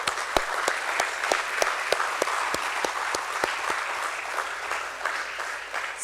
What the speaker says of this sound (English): let us have a resounding of claps for everybody